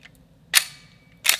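Two sharp gunshots from an HK USP pistol ring out about three-quarters of a second apart, each a loud, crisp crack with a short tail, in a quiet outdoor setting.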